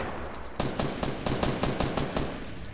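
Rapid automatic gunfire in a shooter video game, a burst of about ten evenly spaced sharp shots fired in quick succession, fairly close and loud, with no talking.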